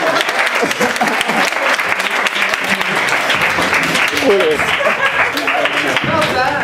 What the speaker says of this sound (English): And a round of applause for our board.